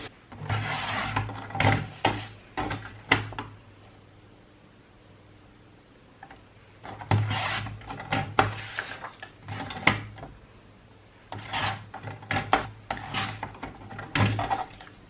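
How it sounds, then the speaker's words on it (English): A paper trimmer cuts paper for a junk journal pocket, making three separate bursts of scraping, sliding blade strokes with short rubbing passes, close up and with quiet pauses between them. "then I can use my trimmer to cut that down"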